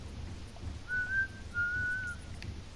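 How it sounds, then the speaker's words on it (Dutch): Whistling from a character in the LEGO Marvel Avengers video game, two short clear whistled tones in quick succession over a quiet low game background hum. "Lewis kan fluiten, nice."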